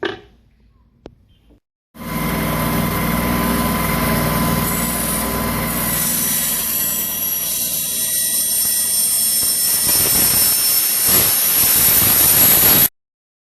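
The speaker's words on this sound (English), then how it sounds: "So now we can take this back over to the bandsaw and cut the bottom." A bandsaw cuts the bottom of a wooden hand plane tote, a steady loud whining roar with dense broadband noise starting abruptly after a short quiet lead-in and running continuously until it stops near the end.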